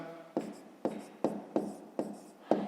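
A pen or pencil writes by hand during a fifth-grade math exercise, giving a series of about six scratchy strokes at a steady rhythm, close and quiet.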